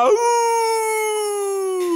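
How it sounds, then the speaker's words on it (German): Cartoon wolf howl in a children's farm song, one long sustained rising-then-steady tone lasting about two seconds, loud and up front. "Nein, Bartolito, das ist ein Wolf!"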